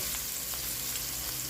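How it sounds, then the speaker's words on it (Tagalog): Onion and garlic sautéing in colored oil for tinolang manok, giving a steady, dense sizzle with faint crackles throughout, close and alone with no talk. "ilagay natin o igisa natin ang onion at garlic"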